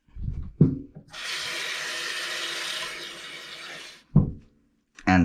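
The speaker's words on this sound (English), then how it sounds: "And then we're going to rinse it." Leeks rinsed under a running kitchen tap, a steady broadband rush of water lasting about three seconds, framed by brief clatter and voice-like sounds before and after.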